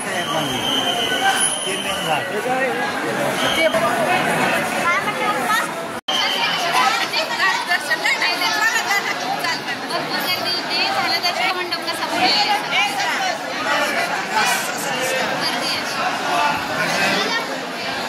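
Dense crowd chatter at the Akkalkot Swami Samarth temple, a steady loud wash of many overlapping voices close by, continuing throughout with nearby talk mixed in.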